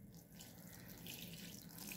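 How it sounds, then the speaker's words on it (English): Water pours steadily onto soil over freshly planted gladiolus corms, a faint, continuous splashing flow with no speech. "Okay, now water it."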